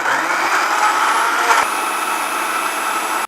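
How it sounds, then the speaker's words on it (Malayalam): A blender runs loud and steady while it purees mango pieces with sugar and curd into a lassi-style juice, a continuous close whirring that stops abruptly at the end. "അടിപൊളിയായിട്ട് ജ്യൂസ് അടിച്ച് എടുത്തേക്കുവാണ്."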